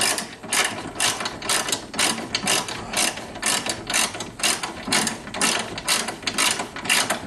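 A ratchet tightens bolts on the front crash bumper of a 1976 Corvette, giving loud, close, steady bursts of rapid clicking in repeated back-and-forth strokes with no talking.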